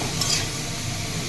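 A spatula stirs bitter gourd frying in a pan with turmeric, producing a continuous loud sizzle with a brief scraping clatter early on.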